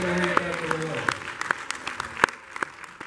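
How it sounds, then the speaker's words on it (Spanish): Church congregation claps for a fundraising total, a loose spread of distinct handclaps that thins out over a few seconds, with a voice speaking briefly at the start. "¿Cuánto le dan un aplauso al Señor?"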